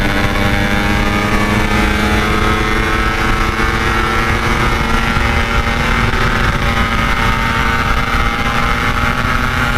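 Several Yamaha RX King two-stroke motorcycles speed along together at night, a loud continuous engine roar with rising and falling harmonic whines throughout, no pauses.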